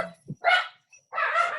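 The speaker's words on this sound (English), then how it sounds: "Dogs barking." Dogs bark in the background of a phone call, a few short yips and then a longer bark, fairly distinct but slightly muffled, as though heard down the line, with no talking over them.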